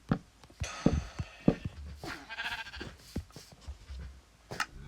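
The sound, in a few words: sheep bleating in Minecraft video game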